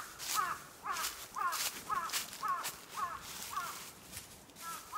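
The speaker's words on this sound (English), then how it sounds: "Birds are scary." Crows cawing repeatedly in woodland, a steady series of harsh calls roughly every half second, fairly close and loud, with no talking over them.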